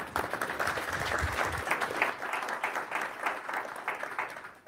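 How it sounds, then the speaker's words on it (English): An audience at a mayoral forum in Providence, Rhode Island, held by the Jewelry District Association, applauds steadily with many overlapping claps, fairly close and sustained, tapering slightly toward the end. "rather than just applauding every time"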